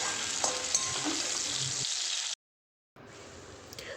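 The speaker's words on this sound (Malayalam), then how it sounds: "വളരെ ചെറുതായിട്ട് സ്ലൈസ് ചെയ്ത് അതുകൂടി ഒന്ന് ഫ്രൈ ചെയ്തെടുക്കാം" Sliced pineapple fries in a pan with a steady, close sizzle that cuts off briefly to silence before resuming.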